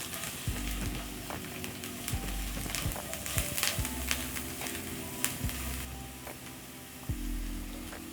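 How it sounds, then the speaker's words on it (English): Crushed garlic and chopped onions sizzle steadily in a frying pan, a continuous close hiss broken by a few soft clacks and stirring sounds, with no one talking. "So as my garlic and onions are cooking"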